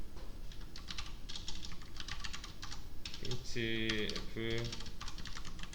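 Computer keyboard keys clatter in quick irregular bursts while code is typed for a C-style if/else exercise, a voice speaking briefly partway through over the steady tapping.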